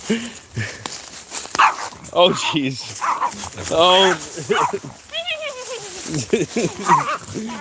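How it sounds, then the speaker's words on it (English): A small dog barks in short sharp bursts and whimpers near the walker outdoors, yapping repeatedly over several seconds while someone talks and exclaims over it. "Yeah, there's a dog come by."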